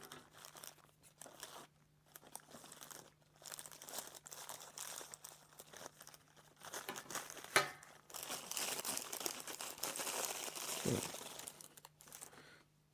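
A sealed plastic pouch from a Bolle STKS 420 safety glasses package is cut open, giving steady crinkling and crunching plastic handling over several seconds with a sharp snip near the middle, close up and without speech.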